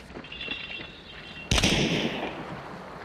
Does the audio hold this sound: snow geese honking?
no